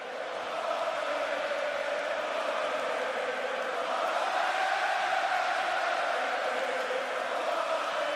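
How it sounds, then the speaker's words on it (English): A wrestling arena crowd chants during a Sami Zayn match, a dense, steady roar of many voices heard from within the venue that holds at a constant level throughout. "listen to this clip of Sami Zayn with the crowd chanting"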